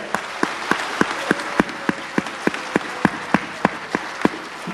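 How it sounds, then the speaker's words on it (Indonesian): An audience at a sales seminar claps in a slow, even rhythm, about a dozen sharp, distinct beats in unison over a quiet background. "Boleh tepuk tangan yang meriah Bapak Ibu"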